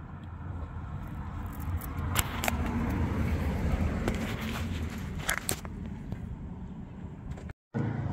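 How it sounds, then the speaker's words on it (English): A Mazda MX-5 Miata with a freshly installed engine runs in a steady, low, close rumble with scattered clicks, then cuts out briefly near the end. "so this is my new motor"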